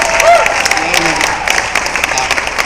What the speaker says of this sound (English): So I hope you'll welcome her with a very thankful round of applause